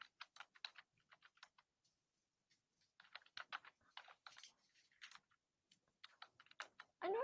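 Faint computer keyboard typing on a livestream comes in quick uneven bursts of key clicks with short gaps between them, and a brief louder thump at the end.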